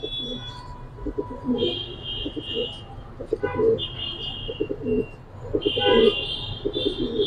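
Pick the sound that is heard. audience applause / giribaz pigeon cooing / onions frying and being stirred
giribaz pigeon cooing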